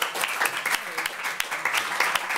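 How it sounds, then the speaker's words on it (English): Audience applause at a talk on architecture and building design, a short burst of many hands clapping steadily from the room, with some voices mixed in. "Could we give Sarah a brief applause before she leaves?"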